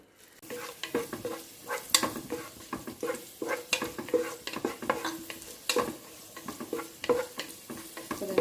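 Raisins and cashews fry in hot ghee in a pan, a steady close sizzle broken by frequent scraping stirs of a spoon against the metal, with no voices.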